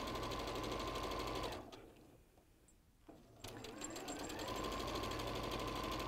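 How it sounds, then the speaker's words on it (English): A sewing machine stitching quilt fabric along a drawn line, a close, steady rapid mechanical whirr that stops briefly in the middle and then resumes. "so you sew directly on the drawn line here"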